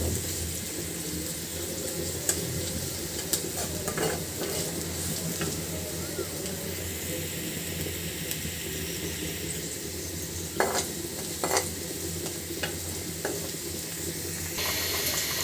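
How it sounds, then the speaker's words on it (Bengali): Onions frying toward brown keep up a constant dense sizzle and crackle for the whole stretch, with occasional clinks and scrapes of stirring over the hiss. "পেঁয়াজটা একদম ব্রাউন কালার করে নেব।"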